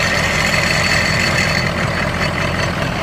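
A truck engine runs loud and steady after a cold start, its fan clutch roaring in a constant broad whoosh over the low engine drone, close and without talk.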